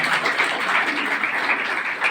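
Audience applause at a community forum's Swami Vivekananda Jayanti seminar in Ranchi, honoring the forum's office bearers; steady, dense clapping from a crowd, moderately loud and continuous throughout.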